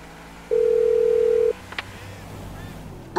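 A phone call on speakerphone in the GTA 5 video game: a single steady dial-like tone holds for about one second, then a brief click and quiet background murmur follow.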